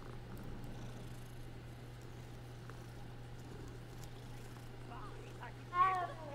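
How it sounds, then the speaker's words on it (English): Cats in the video game Hogwarts Legacy purr softly and continuously under a low steady hum, with a brief voice-like sound near the end. "Lovely cats."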